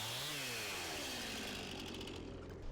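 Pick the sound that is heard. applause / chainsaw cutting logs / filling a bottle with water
chainsaw cutting logs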